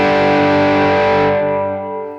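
A big electric guitar chord driven through a Prism overdrive pedal rings out thick and loud, then slowly decays over a couple of seconds, with no voices.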